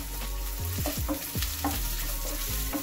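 A spoon scrapes and stirs chilli powder and turmeric through prawns in a pan, several distinct scraping strokes over a continuous close sizzle.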